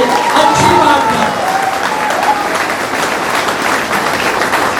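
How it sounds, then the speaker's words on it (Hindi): An audience breaks into loud, sustained applause that fills the space, a dense wash of clapping from a large crowd at a Hindi poetry or oratory gathering. "जोरदार तालियां एक बार होनी चाहिए"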